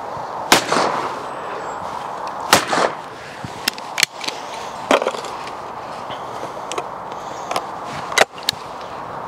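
Side-by-side shotgun, such as an AYA or English game gun, fired at clay targets: sharp loud shots ring out singly at irregular intervals, about nine over the span, with quiet outdoor background between them.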